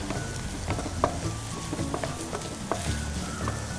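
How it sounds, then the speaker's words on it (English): Onions sautéing in a pan over high flame for fried rice, a steady soft sizzle with occasional clinks and stirring scrapes, no talking. "saute for about 2 minutes till the onions turn golden brown."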